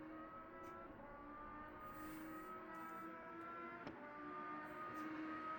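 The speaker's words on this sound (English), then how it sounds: "And we can just hear that car" A race car's engine holds a steady, droning whine down the Mulsanne straight at Le Mans in a racing video game, loud and continuous throughout with no voices over it.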